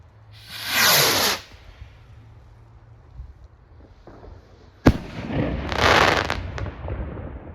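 A Piromax NO LIMITS PXR219 silver rocket firework launches with a rising hiss, then a sharp bang and a crackling, hissing burst follow, heard outdoors at moderate distance.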